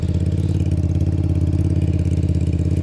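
A motorcycle just back from the shop idles in second gear on a rainy day, with a loud, close, steady rumbling engine throb.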